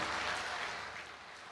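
An audience at a talk by a Jain religious speaker claps, a fairly faint, dense patter that fades slightly as it goes.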